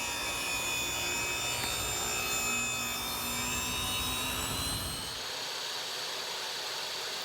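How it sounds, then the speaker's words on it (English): A saw rips a primed 6-inch pine board lengthwise in half. The loud, steady whining cut runs for about five seconds, then the blade spins freely with a lighter hum. "I'm ripping the 6-inch board in half."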